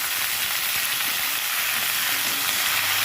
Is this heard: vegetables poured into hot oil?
yes